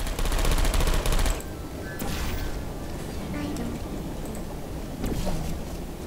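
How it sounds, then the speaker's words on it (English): Rapid bursts of turret gunfire in Portal 2, a dense rattling volley in the opening second and a half, then fading into quieter ambience with a few scattered mechanical clicks. "This next test involves turrets."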